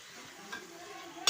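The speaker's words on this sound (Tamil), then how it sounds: "மட்டன் எடுத்து நம்ம அதில் போட்டு நல்லா வதக்கலாம்" Mutton chops sauté in a hot pan with a continuous close sizzle, and stirring scrapes against the metal partway through. A louder clatter of the pan or utensil comes right at the end.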